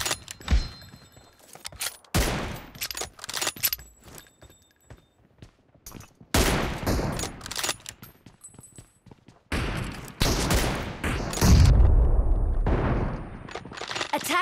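PUBG mobile team deathmatch gunfire: repeated loud bursts of automatic rifle shots and single cracks, some close and some distant, spread across the stretch with brief quieter gaps, footsteps and a heavy boom near the end.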